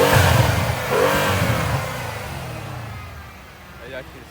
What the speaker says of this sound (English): I'm gonna give y'all some revs from the outside